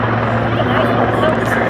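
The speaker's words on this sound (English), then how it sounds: "like a helicopter" A helicopter at an airshow at a public airport on Long Island gives off a loud, steady, close rotor and engine roar, and someone speaks briefly over it.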